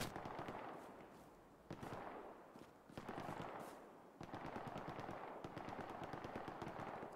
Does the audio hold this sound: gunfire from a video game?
yes